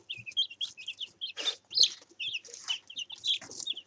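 Hens cluck and squawk in a busy, overlapping chorus while fighting over food, steady bursts of close calls with no talk.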